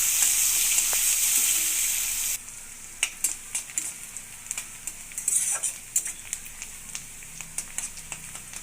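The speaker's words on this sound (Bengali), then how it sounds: "এই মাছ ভাজা তেলতে আমি পেঁয়াজ দিলাম" Onions hit hot oil left from frying fish with a loud burst of sizzling that then settles to a softer fry, broken by repeated clinks and scrapes of stirring.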